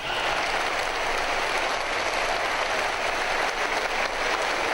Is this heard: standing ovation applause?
yes